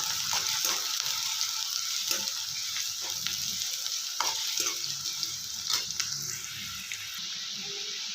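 Chopped onions fry in a pan with a continuous crackling sizzle, and a spatula stirs them now and then with light scrapes and taps over the frying.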